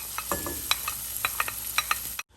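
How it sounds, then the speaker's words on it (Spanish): Onion, garlic and chile sautéing in butter in a skillet, with soft sizzling and a run of light scraping stir clicks and taps, close up, ending in sudden silence. "Aquí en un sartén voy a echar la mantequilla y vamos a empezar a citronar cebolla, ajo y chile"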